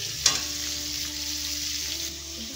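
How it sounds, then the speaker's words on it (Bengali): Pointed gourd (potol) frying in oil over low heat, a steady soft sizzle with one brief clink of stirring near the start. "এবার এগুলো আমি আঁচটা কমিয়ে ভেজে নিচ্ছি।"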